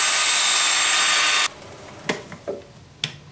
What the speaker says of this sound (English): Now the lathe is spinning forward at about 325, and my drill is spinning forward.